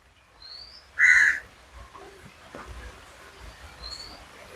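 A single crow gives one loud, harsh caw up close, with faint bird calls and quiet outdoor background around it.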